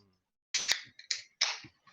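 A drink can is cracked open up close: a sharp metallic click and a hissy pop, then a few short fizzing bursts, with no talk.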